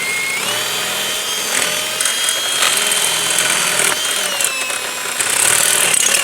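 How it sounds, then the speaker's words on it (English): A power drill fitted with a stepper bit bores through metal during a Vortec 4200 engine swap into a 1967 Checker Marathon, a loud, close, whining grind that rises and falls in pitch as the cut bites, with no speech. "Proper use of a stepper bit"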